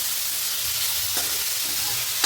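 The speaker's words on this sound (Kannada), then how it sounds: "ಇವಾಗ ಸ್ವಲ್ಪ ಬಾಡಿಸ್ಕೊತೀನಿ." Ingredients for a traditional bassaru sauté in a hot pan, giving a loud, steady, close sizzle with a brief stirring scrape midway and no talk.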